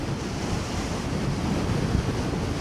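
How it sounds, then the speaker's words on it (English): Steady roaring wind noise buffeting the microphone while riding a KingSong 16X electric unicycle into a headwind, a continuous broadband rush at close range with no speech. "Of course, I'm into the wind right now."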